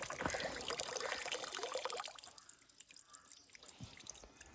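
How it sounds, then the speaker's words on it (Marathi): Water keeps running and pouring into an already full container, a steady splashing trickle that is louder at first and then eases to a quieter dribble with a few drips. "बघा पाणी गेला भरून चालूचा चालूच"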